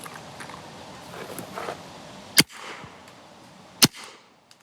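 A 2003 Spyder Xtra paintball marker fires two sharp, loud pops about a second and a half apart in pistol mode, with quiet background noise between the shots.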